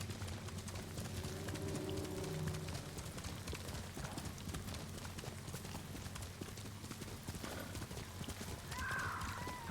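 A horse gallops in Ghost of Tsushima, with steady clip-clop hoofbeats running continuously underneath, a brief whinny and game ambience around it.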